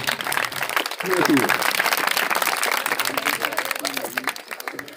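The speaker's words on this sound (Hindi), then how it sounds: "इनके तो एक बार तालियां बजाओ" Clapping from an audience at a prize ceremony for talent exam winners, a dense burst of applause that builds and carries on steadily with a voice speaking over it.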